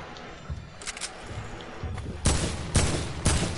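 Gunfire in the video game Fortnite: several sharp shots, a few faint ones early on, then three louder, closer bursts spaced about a second apart.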